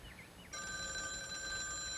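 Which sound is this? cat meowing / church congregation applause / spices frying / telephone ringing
telephone ringing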